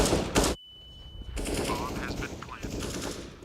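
Rapid gunfire from a professional Counter-Strike esports match, with a loud burst of shots up front, a short silence, then more distant shooting and game effects, with a faint voice in the background.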